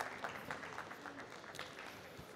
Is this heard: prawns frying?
no